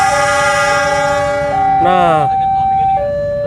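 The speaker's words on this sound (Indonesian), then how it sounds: "klakson udah diberikan sebanyak 35" Diesel locomotive horn from a CC 300 locomotive hauling an Indonesian passenger train, a loud sustained multi-tone blast lasting the whole clip with a brief warbling shift midway, under railway rumble; a voice says a word.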